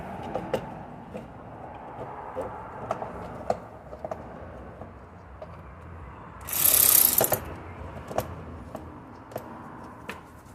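Ratchet socket wrench turning a nut on the sump of a Saab 9-3, a slow series of separate metallic clicks spread evenly apart, close by, with one louder scraping rasp partway through.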